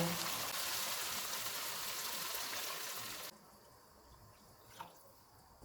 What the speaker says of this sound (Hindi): साढ़े 5 गिलास पानी डालेंगे।